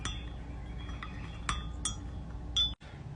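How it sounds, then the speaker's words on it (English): A spoon stirs sugar and sweetener into tea in a cup, giving several light, bright clinks against the side at irregular moments over a low steady background, with no talk. "And now we stir."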